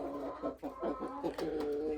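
Five-month-old roosters and hens cluck and murmur in a coop at a chicken farm, with soft, overlapping calls in short rhythmic bursts against a low background hum, fairly faint.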